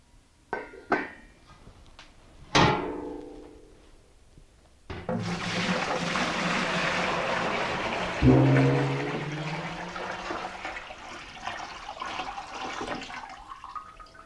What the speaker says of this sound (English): Now I'm going to pour the pre-filtered 3 gallons of water into a clean mixing bucket.